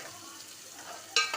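A bitter gourd and jaggery mixture is stirred in a pan with a faint scraping sizzle, ending in two quick, sharp utensil clatters.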